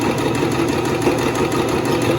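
Sewing machine running steadily as it stitches a seam down pillowcase fabric, a continuous close motor hum with a fine, even mechanical rhythm and no talking.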